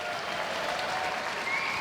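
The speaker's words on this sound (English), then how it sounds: "Crowd really appreciating that Muay crew" Crowd at Rajadamnern Stadium in Bangkok applauding a Muay crew after a performance, a dense, steady wash of clapping filling the arena, loud and sustained throughout.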